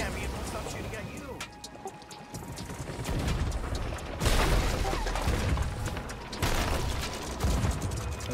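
Cannon fire during a ship battle in the pirate game Sea of Thieves: sharp, loud booming blasts stand out against a constant rumble of game noise, with voices chatting underneath.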